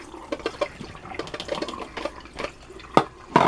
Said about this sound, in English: Rinse them both.